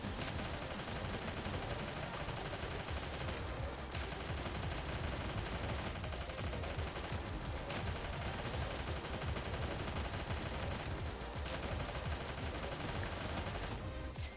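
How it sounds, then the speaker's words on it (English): Light machine gun fire rattles in the video game Snezhinka: Sentinel Girls 2 as dense, continuous bursts that run nearly unbroken for the whole stretch, with only a few brief pauses, loud and close. "A light machine gun."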